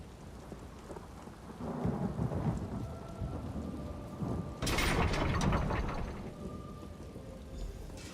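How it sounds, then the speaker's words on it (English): A thunderstorm with steady rain in the Elder Scrolls Online game, set in Summerset during a wall siege. Rolling thunder builds and cracks loudly midway, with a rumbling tail, all under a constant rain hiss and no voices. "How often are we going to see a tempest like this in one lifetime?"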